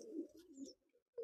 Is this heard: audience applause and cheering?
no